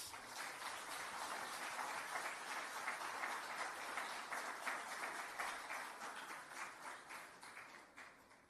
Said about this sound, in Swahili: hebu tupate makofi mengi kwa J-Root